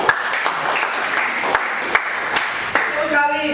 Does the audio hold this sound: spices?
no